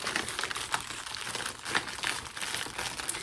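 Crinkly plastic packaging of a project bag from an advent box is handled up close, giving continuous soft crackling and rustling with a few sharper crinkles over a few seconds.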